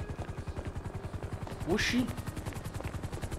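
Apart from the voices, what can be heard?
helicopter landing on the street in the video game GTA V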